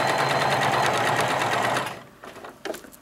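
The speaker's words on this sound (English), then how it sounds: "So I'm trying to sew right on the one, all the way around the edge of the fabric, keeping the two fabrics together." A sewing machine runs at a steady fast rhythm, stitching along the edge of two layers of fabric held together, then stops abruptly, leaving a few soft handling clicks.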